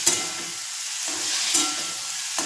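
Pasta being stirred in a pan over low gas, a steady soft sizzle with a few scraping stirs at intervals, close and alone without speech.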